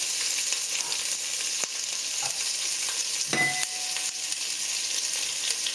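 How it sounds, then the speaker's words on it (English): Onions dropped into hot cooking oil sizzle with a steady, loud, close hiss, with a few brief clicks and knocks of stirring partway through. "So now that the oil is hot, we put in our onions."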